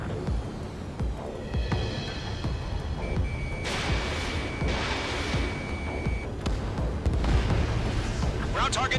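Missile impact destroying a ground radar vehicle in Ace Combat 7 Skies Unknown, a rumbling blast wash with a jet engine drone and a steady lock-on tone, under radio chatter.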